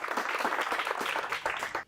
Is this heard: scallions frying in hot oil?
no